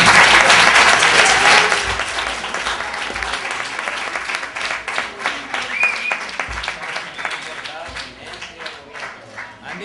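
Loud audience applause at the close of a talk on the Constitution, strongest at first then thinning into scattered clapping, with voices talking over it.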